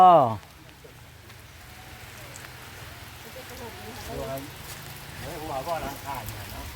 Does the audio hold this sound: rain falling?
yes